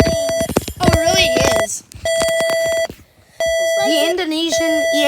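An Indonesian EAS emergency alert tone plays in repeated steady electronic beeps, broken by short gaps, with people talking and reacting loudly over it.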